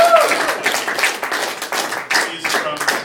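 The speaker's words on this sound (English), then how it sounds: "Matt Watts, everybody, keep clapping" Audience at a live comedy show in Knoxville clapping for a comedian, uneven clapping that rises and dips across the clip, with voices talking over it.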